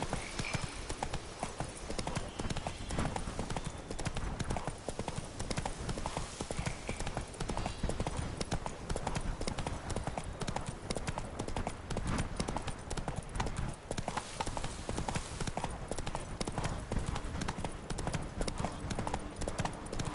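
Roach, a horse in The Witcher 3: Blood and Wine, gallops at a steady clip-clop rhythm, hooves pounding loud and continuous throughout.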